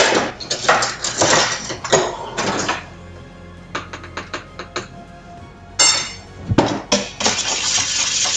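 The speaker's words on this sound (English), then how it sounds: "I'm just gonna whisk that in" A whisk stirring honey into a mixture in a bowl, producing bursts of quick metallic clinking and scraping against the bowl, separated by quieter pauses, fairly close and loud.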